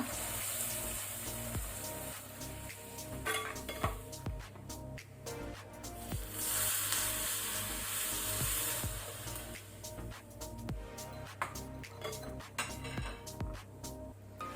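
Hot tempering of green chillies and curry leaves poured into buttermilk for majjige saaru, giving a steady close sizzle and watery hiss that runs throughout, alone without talk.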